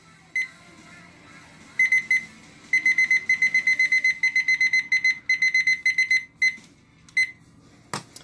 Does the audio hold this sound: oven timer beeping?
yes